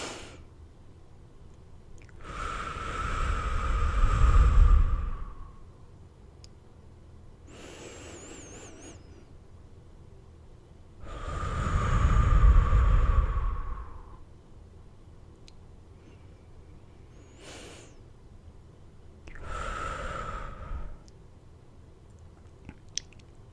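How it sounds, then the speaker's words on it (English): A person takes slow, deep breaths close to the microphone. About three long, airy swells rise and fall with quiet gaps between them. "I want you guys to take a few deep breaths."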